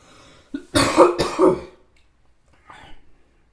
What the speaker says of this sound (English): I really should edit out my cough